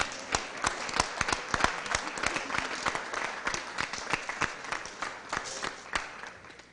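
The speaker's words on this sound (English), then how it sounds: "give them a round of applause again," Applause at a Board of Aldermen meeting, a modest group clapping with distinct individual claps audible, steady throughout with no talking.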